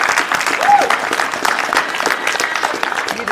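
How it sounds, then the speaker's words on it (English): A crowd of guests at an honor society induction ceremony applauds in a dense, steady wash of clapping that holds throughout, with voices mixed in underneath. "Round of applause, everybody."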